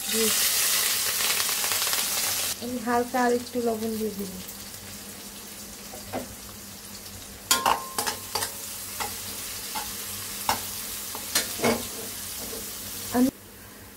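Onion and green chili frying in a pan for borboti bean bhaji, a loud steady sizzle at first, then scraping stirs and clinks over a quieter fry, with someone speaking briefly.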